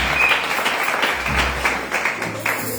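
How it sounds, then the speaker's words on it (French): Audience applause at a Christian youth camp gathering after a talk, a steady dense patter of many hands clapping throughout, fairly loud and continuous with no speech over it. "On peut acclamer."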